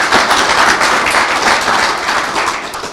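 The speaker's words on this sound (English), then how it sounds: "let's give her a round of applause." An audience at a broadband grant announcement in Rapid City applauds, steady dense clapping that stays loud and even for the full few seconds before fading slightly at the end.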